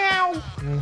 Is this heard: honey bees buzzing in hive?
no